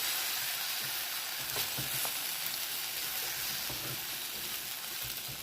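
Tomato masala with spice powder sizzles and fries in a pan while being stirred, a steady close crackle with occasional scraping clicks.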